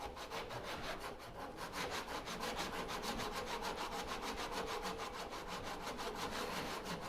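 A hand saw cuts into wood in a steady rhythm of push and pull strokes, close and moderately loud, with no talking.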